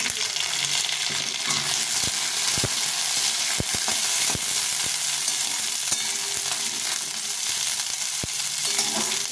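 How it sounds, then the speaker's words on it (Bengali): Potato, carrot and green peas fry together in a pan for sabudana khichuri, with a constant close crackling sizzle and sharp intermittent scrapes and taps of a spoon against the pan. "সবগুলো একটু ভালো করে ভেজে নিতে হবে"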